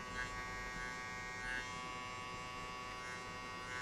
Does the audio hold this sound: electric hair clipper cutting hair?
yes